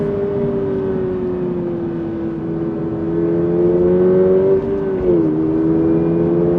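A sports car engine revving high to about 7000 rpm and holding a strained, steady drone, the pitch dipping briefly before climbing again, loud and close.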